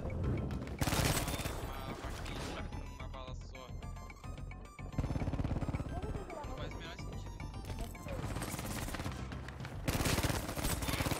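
Bursts of automatic gunfire and explosions from the shooter game Battlefield 5 come in loud clusters, with quieter gaps between them and game sounds throughout.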